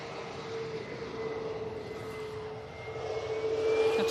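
An airliner decelerating hard on the runway after landing at Manchester Airport gives a steady, moderately distant engine roar with a sustained whine, swelling slightly louder toward the end.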